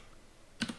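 Computer keyboard typing, heard as a quick pair of soft, close key clicks after a brief quiet stretch.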